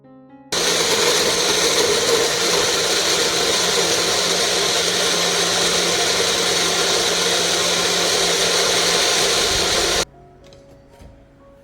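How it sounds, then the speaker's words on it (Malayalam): A kitchen mixer grinder jar blends cut, peeled mango pieces into a thick paste with no water added, a steady loud whirring drone for about nine and a half seconds that stops abruptly with quiet room noise after. "ഇത് നമുക്ക് മിക്സിയുടെ ജാറിലിട്ടിട്ട് നല്ലോണം പേസ്റ്റാക്കി അരച്ചെടുക്കണം"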